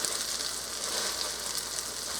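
Potato pancakes fry in a pan with a steady, close hiss of sizzling oil that holds evenly for a couple of seconds, alone and without any voice.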